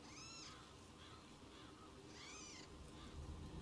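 A cat in a video game meows twice, soft rising cries separated by a pause, faint against a steady hum of ambient game background.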